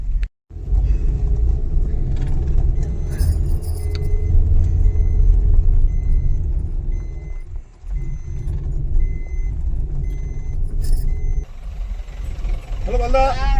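A car carries passengers a short way to an Urs fair, heard from inside the cabin as a steady, loud low engine and road rumble that runs throughout, with a brief voice near the end.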